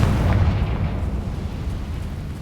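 Confringo spell blast in Hogwarts Legacy, a loud rumbling explosion with a booming low-end roar that decays gradually over a couple of seconds.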